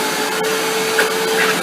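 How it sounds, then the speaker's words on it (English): Futuristic-looking vacuum cleaner running close by with a steady whining motor hum and airy suction noise, constant and fairly loud for the whole short stretch, with no voices. "Got a futuristic vacuum here."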